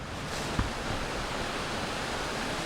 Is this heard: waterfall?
yes